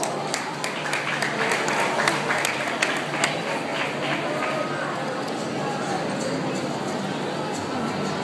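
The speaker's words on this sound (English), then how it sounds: "Let us give them a round of applause." Crowd applause at a high school graduation ceremony, a steady dense wash of clapping that holds at an even level from start to finish.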